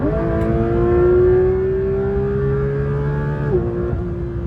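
A Porsche 992 GT3 RS in sport mode cruising on the highway, its engine a steady loud drone heard from inside the cabin, pitch holding then dipping briefly near the end.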